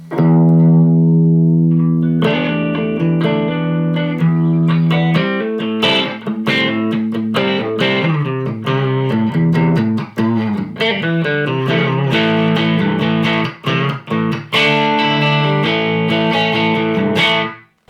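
An EVH 5150 Iconic Series 15W 1x10 tube combo is played dry, with no reverb, the pre-gain turned up and the volume around five, so the tone breaks up. Electric guitar chords and riffs ring out loud and continuous with crunchy distortion.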